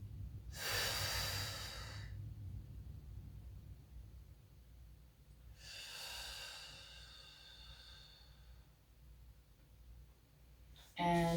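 Slow, deep breathing during a lower-body stretch, two long audible breaths separated by quiet, recorded close and soft with a faint room hiss.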